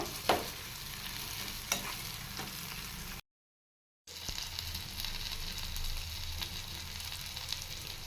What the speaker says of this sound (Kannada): ಶುಂಠಿ ಸೇರಿಸ್ತಾ ಇದ್ದೀನಿ ಒಂದೊಂದೇ ನಿಧಾನಕ್ಕೆ ಫ್ರೈ ಮಾಡ್ಕೋಬೇಕು